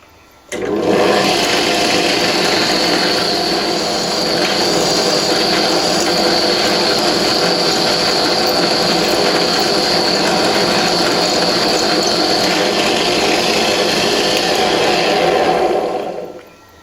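A small drill runs at high speed through an airgun tube while a regulator is retrofitted into a BSA Hornet, a loud, steady whine held for about fifteen seconds before stopping.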